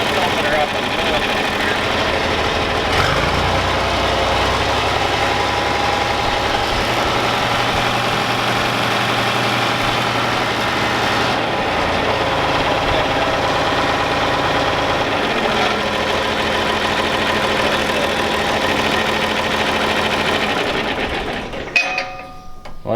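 A John Deere 4020 tractor that had sat for two years runs loud and steady at idle up close, with a droning engine note and a rattly mechanical chatter before it cuts out near the end.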